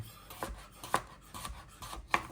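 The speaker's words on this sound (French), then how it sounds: "il y a un couteau qui coupe" A kitchen knife cuts food while a duck and sweet potato parmentier is being prepared, giving four quiet, separate chopping strikes at an uneven pace, close by, with no speech.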